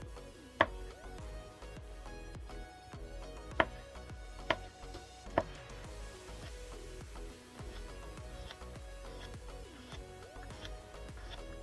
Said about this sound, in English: We're just going to start chopping everything up and putting it into the bowl.